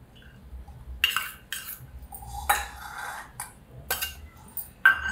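Cooked rice is scraped from a vessel into a bowl with a metal spoon to make curd rice. Close, quiet scrapes and clinks of metal on the dish come in separate bursts, with a sharper clank near the end.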